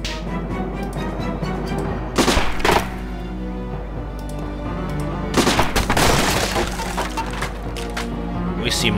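Gunfire in the Silent Storm tactical war game: bursts of rapid shots crack out around the two- and five-second marks over a constant low rumble of battle ambience.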